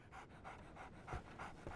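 A dog pants in Sherlock Holmes The Awakened, quick breathy huffs repeating in an even rhythm, close and fairly soft, with a couple of deeper gasps near the end.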